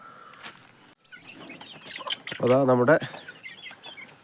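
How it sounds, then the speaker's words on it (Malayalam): Hens cluck softly under a short spoken phrase, with a louder burst of clucking mid-clip and faint peeping in the background. "കോഴിക്കുഞ്ഞമാരും ഇവിടെ ഉണ്ട്"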